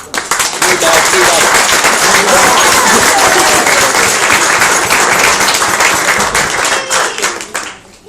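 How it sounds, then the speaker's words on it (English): Hearty applause breaks out among guests at a family celebration honouring a daughter, a loud, dense wash of clapping that holds steady for several seconds before tapering off. "That's a round of applause."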